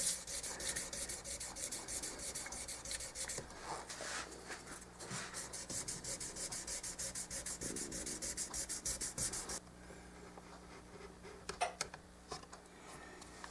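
Banjo frets rubbed with 1500 grit sandpaper in fast, even back-and-forth strokes, a close scratchy rasp that runs for about ten seconds, then softer scattered scraping and handling noises.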